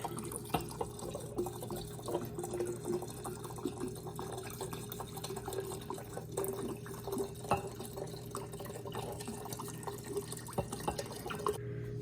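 Alcohol is poured into a jar of vanilla pods, giving a faint, steady trickle with light dripping splashes throughout, close but quiet, with no talking.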